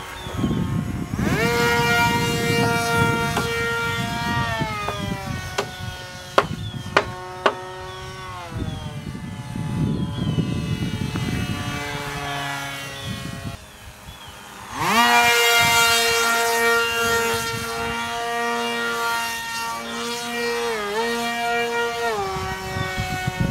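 An easybuild jet aircraft flies in a video game, its engine a loud tonal whine that rises and falls in pitch with throttle changes, dropping briefly before surging back up strongly.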